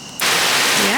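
Summer rain falling outdoors, a dense steady hiss that starts abruptly and stays loud and close for the rest of the moment.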